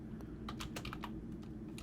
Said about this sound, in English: I'm typing at an angle.